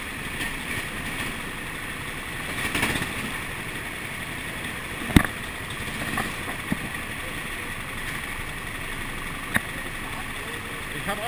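Onboard at the Almancil racetrack in Portugal, a 390 cc racing kart engine roars at a steady, rough drone, mixed with wind buffeting and a few sharp knocks.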